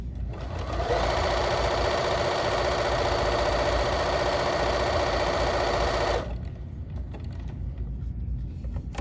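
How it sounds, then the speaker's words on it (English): A Bernina sewing machine runs a satin stitch in a steady, loud, fast mechanical whir for about five seconds, then stops and leaves quiet room noise. "this satin stitching is so pretty"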